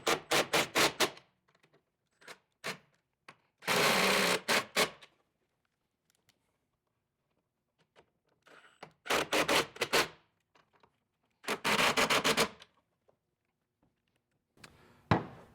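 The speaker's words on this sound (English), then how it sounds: "Take your impact and go ahead and tighten these down." An impact wrench with a 9/16 socket drives carriage bolts on a ProMaster van loading ramp install, firing off several loud, close bursts of rapid hammering rattle with quiet gaps and small clicks between them.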